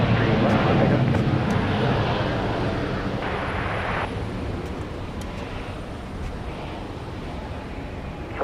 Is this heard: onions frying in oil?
no